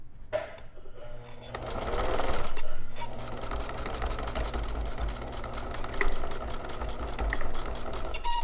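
A sewing machine stitching a seam in fabric, its motor starting up and then running in a steady close, loud whir and rattle for several seconds.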